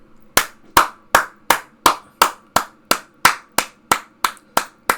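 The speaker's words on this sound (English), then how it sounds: "I'm sorry I had to clap for this" Hands clap fourteen times in a slow, even rhythm, each sharp clap close and loud and standing alone against silence.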